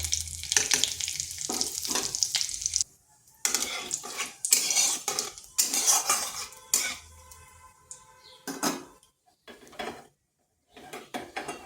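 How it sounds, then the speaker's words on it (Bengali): Whole bay leaf, dry red chilli and cumin seeds hit hot oil for a Bengali kakrol dish, sizzling and spluttering in bursts with clinks of a spoon against the pan, broken by short pauses. "ওই তেলের মধ্যে ফোড়নে দিচ্ছি একটা তেজপাতা, শুকনো লঙ্কা আর গোটা জিরা।"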